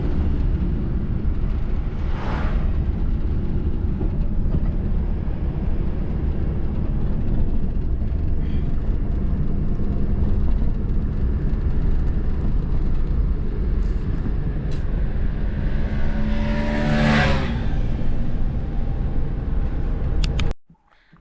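A drone flies over a straight forest road in India's Nallamala forest, with a steady whirring drone throughout and a rising, sweeping whine near the end before it cuts off abruptly.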